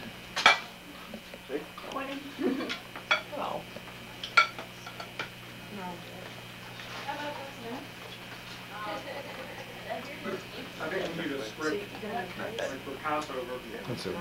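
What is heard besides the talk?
plates and cutlery handled at a picnic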